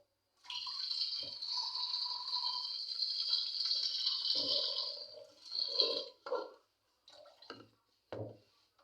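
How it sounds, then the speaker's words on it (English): Water pours steadily into a pot of goat meat for a stew for about five seconds, followed by a few clunks and splashes of handling; no one talks. "So we're going to add more water."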